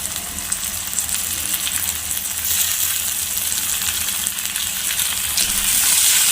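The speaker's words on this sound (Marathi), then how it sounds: "आता आपण त्यामध्ये बारीक चिरून घेतलेला टोमॅटो टाकून घेऊया" Finely chopped tomato sautés with browned onion in a pan for bheja masala, giving a loud, continuous close-up sizzle that swells brighter partway through, with no voices.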